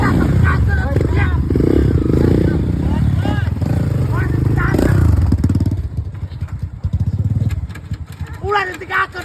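A motorcycle ridden on a hilly road with uphill and downhill stretches, its engine loud and close at first, then fading into lower putters, with people talking throughout.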